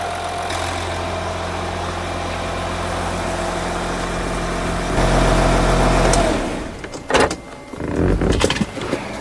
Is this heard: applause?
no